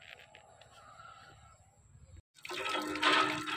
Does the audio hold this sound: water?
yes